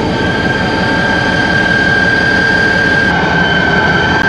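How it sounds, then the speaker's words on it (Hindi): A diesel local train, GMU 34712, rumbles steadily and loudly at close range as it departs a station, with a constant engine drone and a high whine running throughout and no talk. "GMU 34712 की बहुत ही ज़बरदस्त डीजल साउंड।"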